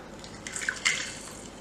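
Half of a small lime is squeezed into a cup of tea, giving a faint, brief trickle and a couple of soft drips close by.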